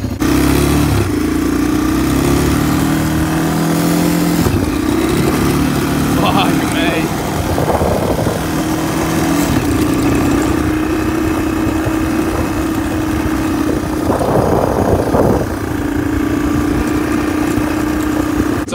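A motorbike engine starts and settles into a loud, steady running drone with slight shifts in pitch, heard close by, while someone talks briefly over it.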